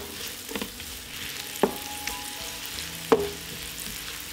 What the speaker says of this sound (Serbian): Na istopljenom puteru propržit ću crni luk. Dodajem i seckani beli luk i sve ću zajedno propržiti.